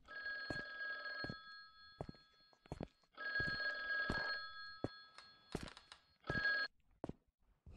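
An old-style telephone bell rings in the horror game The Guest, several bursts of harsh metallic ringing separated by pauses and sharp clicks, clear and alone without talk.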